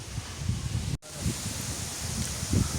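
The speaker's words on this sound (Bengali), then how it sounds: "নদীর পাড়ে বাতাস, প্রচুর বাতাস উঠছে।" Strong wind gusts across a riverbank, a steady rushing and rustling with low buffeting against the microphone and a brief dropout near the start.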